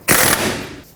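A ratchet wrench snugs up the ball joint nut on a 2003-2021 Chevrolet Express van, one quick burst of clicking that starts sharply, then trails off over about a second, close and loud with no talking.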